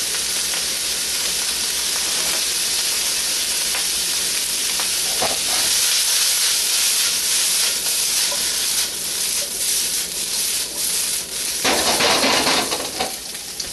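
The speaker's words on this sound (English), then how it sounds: "You see it's sauteing down very, very nicely." Asian coleslaw and lo mein ingredients sauté in a pan with a loud, continuous hissing sizzle, swelling and roughening near the end as the food is tossed, no voices.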